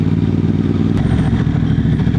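A Moto Morini X-Cape 1200 motorcycle engine runs steadily while riding, a loud, close, continuous low drone with wind rush and slight clatter throughout.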